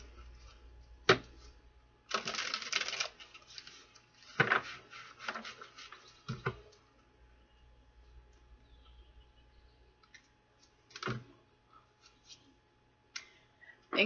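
Oracle cards being shuffled in the hands, bursts of papery riffling and soft flicks separated by quiet pauses, close by.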